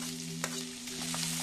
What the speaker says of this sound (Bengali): পেঁয়াজটা বেশি ভাজার দরকার নেই, কাঁচা গন্ধটা চলে গেলেই আমি এর মধ্যে আরও সবজিগুলো অ্যাড করব।